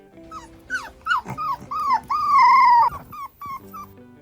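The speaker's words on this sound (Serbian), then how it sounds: "Ovako se čuje kada pas cili." A dog whines in a string of rising and falling high-pitched whimpers, building to one long drawn-out cry before tapering off into softer whines, close and clear with no talking.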